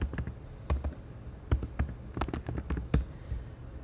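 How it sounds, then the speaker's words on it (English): Quick bursts of typing on a computer keyboard while searching for street art online, with irregular clusters of sharp clicks at moderate level and no talk. "let me type in street art, white background"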